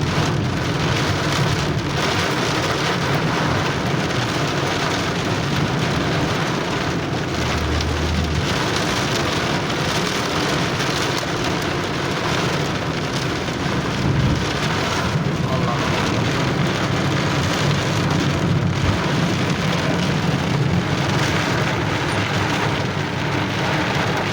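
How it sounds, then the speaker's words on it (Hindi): Heavy rain pours steadily and loudly in Mecca for the whole stretch, a dense wash of drumming drops with low rumbles underneath and no voices. "बारिश है यार, बड़ी।"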